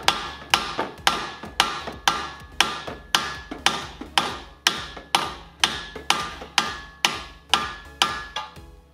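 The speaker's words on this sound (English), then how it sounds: "we just need a little bit bigger hammer and it's going to come out" A hammer striking a front strut bolt on a Chevrolet Cruze with the nut on, sixteen sharp metallic blows at a steady, even rhythm, loud and close, each ringing briefly before the next.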